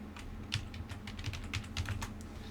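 Typing on a computer keyboard to rename a folder makes a quick burst of soft, close keystrokes over a steady low hum, with no talk.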